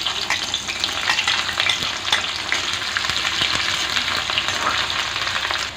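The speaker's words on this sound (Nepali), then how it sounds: "तेल तातेर रेडी छ कराईमा। अब 5 फोरन हाल्छु। यो प्याज, काँचो खोर्सानी," Onion, green chillies and five-spice seeds fry in hot oil in a karahi, giving a loud, dense, continuous crackling sizzle that stays close and steady throughout.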